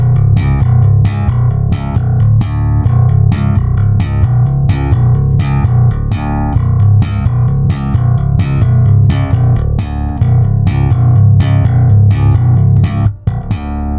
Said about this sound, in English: there is no escape from slap bass